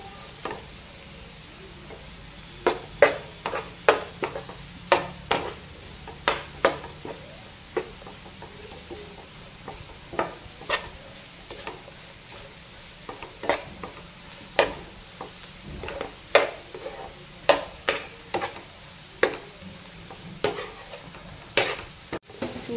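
Potato fry with chili powder and garam masala sizzles softly in a pan. A spoon scrapes and clacks against the pan in irregular sharp strokes throughout, with no talking.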